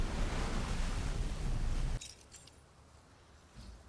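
A water explosion spell from the action video game Forspoken bursts as a loud, dense wash of splashing, surf-like noise for about two seconds, then drops abruptly to a quiet trickle with a faint splash near the end.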